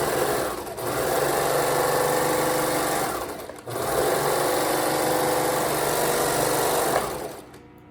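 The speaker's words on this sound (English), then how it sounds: "So this is what our first stitch looks like with the serger." A serger sewing machine stitches fabric in two long, steady runs of fast, even whirring, close and loud, with a brief pause between them and a quick stop at the end.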